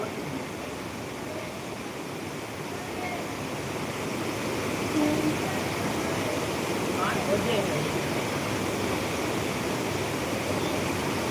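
Rushing floodwater in Botad after heavy rain makes a steady, broad roar of flowing water that holds constant and grows slightly louder midway.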